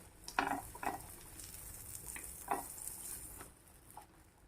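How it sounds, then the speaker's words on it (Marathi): Pav bread rolls toasting in butter on a hot pan give off a faint steady sizzle, with several sharp scraping and stirring clicks from a spatula or utensil against the pan. "आता ही साईड आपण भाजून घेऊया"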